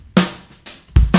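A drum loop played dry with no EQ, its hits bright and harsh with full high end, striking loudly in quick succession with sharp attacks and short decays.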